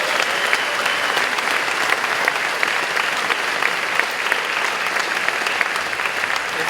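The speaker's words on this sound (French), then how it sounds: "On peut applaudir bien fort." Loud, dense applause from a crowd at a political meeting, steady clapping filling the room for the whole stretch without pause.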